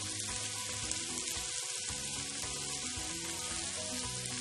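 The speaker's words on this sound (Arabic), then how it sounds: "نقلب اللحمات." Chunks of meat sizzling steadily in a hot pan with onion and hot pepper, a dense continuous crackle with faint scraping as the pieces are turned, close by and without speech.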